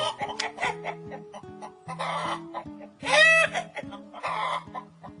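Chickens cluck in short, repeated bursts close by, their choppy calls overlapping in an uneven rhythm, with one louder, higher squawk partway through; no speech is heard.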